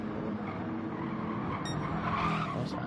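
Race car on medium tyres in a GT1 sim racing event at Brazil, its tyres sliding and squealing steadily under a droning engine at moderate volume.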